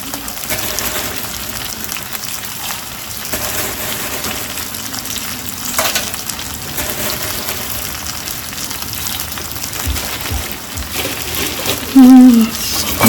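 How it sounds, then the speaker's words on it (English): Noodles cook in a pan with a continuous close watery bubbling and hissing, broken by a few soft clinks and a brief higher tone near the end. "just cook the noodles till they're done to your liking"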